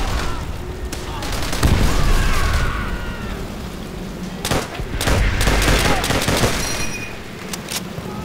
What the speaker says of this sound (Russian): Я так маленько стреляю.